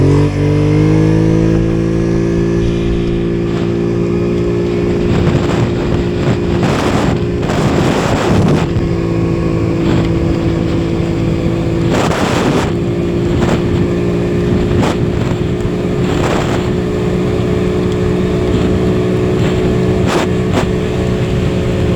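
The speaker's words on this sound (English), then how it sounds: "I'm going to show you guys right now how fast this bike can really go" A 2022 Polaris Sportsman 850 HO ATV runs at full speed, its engine droning loud and constant under heavy wind buffeting on the microphone, with bursts of gusting noise throughout.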